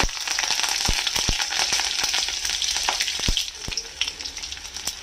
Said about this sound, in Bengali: কড়াইতে সর্ষে তেল দিয়ে এক চামচ পাঁচ ফোড়ন তিনটে চেরা কাঁচা লঙ্কা দিয়ে দিলাম